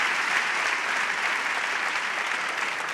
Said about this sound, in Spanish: Un fort aplaudiment per tots ells, per tots vosaltres